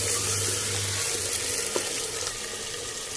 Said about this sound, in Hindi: और अब हम इसका हल्का सा कलर चेंज होने तक भून लेंगे, जब तक कि गोश्त का कलर अच्छे से चेंज नहीं हो जाता।